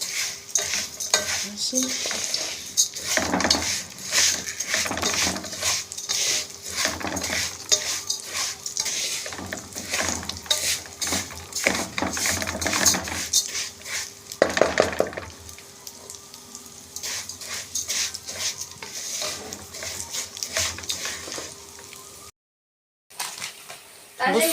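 Vermicelli being stirred and turned as it fries in a pan until golden, with a steady scraping and clinking of a utensil against the metal and a soft sizzle underneath, while someone talks over it.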